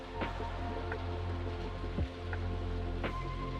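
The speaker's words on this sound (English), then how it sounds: "I love the rain sounds in this game." Rain in the Stardew Valley video game, a steady soft patter with scattered drip ticks, heard alone at moderate level with no voices.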